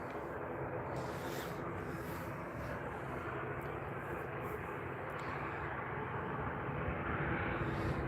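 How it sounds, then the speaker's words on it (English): A Norwegian airliner takes off from runway 19R at Stockholm Arlanda, its engines a steady broadband roar, moderately distant and unbroken, swelling slightly toward the end. "Clear for takeoff, runway 19 right for the Norwegian."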